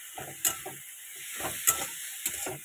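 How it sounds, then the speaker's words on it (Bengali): Something frying in oil with salt and turmeric, a soft hiss broken by repeated bursts of spluttering and stirring scrapes in short clusters, close and fairly quiet with no voices. "ভালো করে নুন হলুদ দিয়ে তেলে ভেজে নেব"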